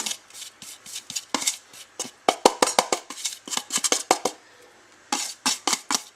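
Macaron batter folded with Italian meringue in a bowl: repeated sharp spatula taps and scrapes against the bowl in irregular bursts, close and clear, with short pauses between strokes.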